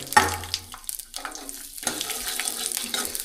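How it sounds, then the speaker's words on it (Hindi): Peanuts frying in hot oil in a kadhai: a brief sizzle and crackle, close and moderately loud, settling into a steady lower fry. "पहले मूंगफलियों को फ्राई कर लूँगा"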